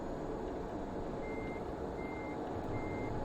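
A Tesla Semi in American Truck Simulator sounding its reversing alarm, three evenly spaced beeps over a steady low engine drone.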